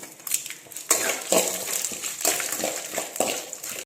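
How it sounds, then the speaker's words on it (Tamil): Chana dal frying in oil in a pan for a Thanjavur-style neer urundai, a steady close crackle and sizzle with scraping and clinking bursts from stirring, no talk. "அந்த கடலப்பருப்பு நல்லா எண்ணெயில் போட்டு நல்லா வறுத்து எடுத்துக்கணும்"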